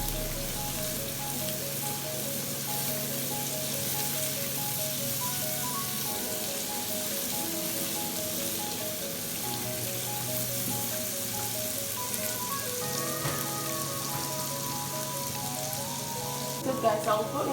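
Seasoning and salt are stirred through coconut fried rice ingredients in a frying pan, a constant even sizzle with faint occasional scrapes and soft tonal sounds in the background.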